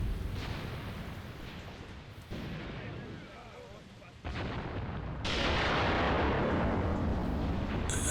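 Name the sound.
tank gunfire in video game Graviteam Tactics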